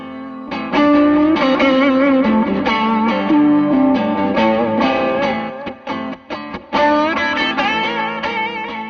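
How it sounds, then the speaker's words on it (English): Crunchy overdriven electric guitar through a TC Electronic Zeus Drive overdrive pedal plays chords and riffs, loud and sustained, with a few brief gaps between phrases. "Zeus Drive is an overdrive pedal."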